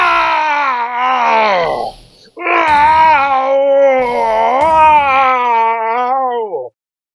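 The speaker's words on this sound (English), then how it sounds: "Okay, that's enough screaming." Manfred von Karma screaming in the Phoenix Wright: Ace Attorney video game, two long, loud, wavering wails close up with a brief break between them, then an abrupt cutoff.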